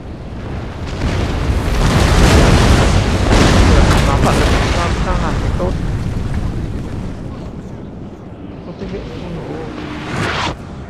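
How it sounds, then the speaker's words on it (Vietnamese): Artillery fire in Napoleon Total War, a Napoleonic battle game: a long, loud rolling roar of cannon blasts and explosions that swells, then fades into a rumbling background with a smaller boom near the end. "Chạy vào khu nhà này là tránh được pháo của nó."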